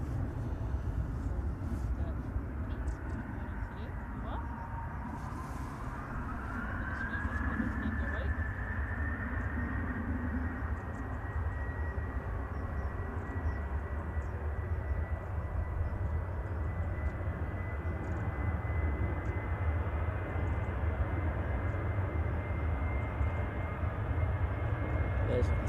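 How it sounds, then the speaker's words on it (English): An Emirates airliner gives off a low, steady engine rumble with a rising whine at moderate distance that holds throughout. Voices talk over it. "then we have the Emirates, the beast from the east"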